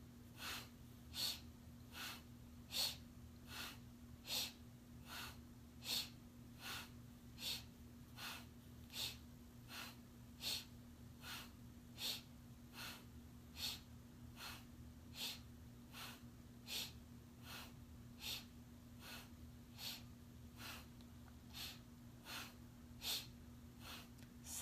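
Rhythmic breathing during a Kundalini yoga neck-turning exercise, with short, sharp nasal breaths repeating evenly and quickly throughout, close and fairly quiet over a low steady hum.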